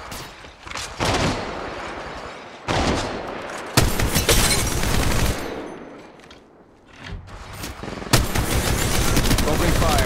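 Loud bursts of automatic gunfire from Apex Legends Mobile gameplay come in several long rattling volleys separated by short pauses, with character voice lines heard among them.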